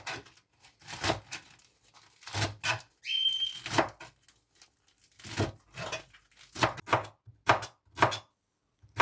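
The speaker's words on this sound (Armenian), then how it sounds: "1000-ի թերթիկները մի փոքր ցույց տվեցի, ոնց եմ ես կտրատում" Knife chopping lettuce leaves on a board, bursts of quick crisp cuts in uneven clusters with short pauses between them, close and fairly quiet, with a brief whistle-like tone partway through.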